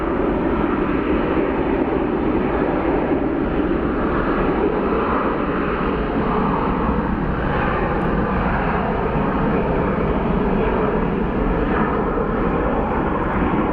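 An airliner taking off at Phoenix Sky Harbor International Airport, a loud continuous jet engine roar holding steady throughout without pause.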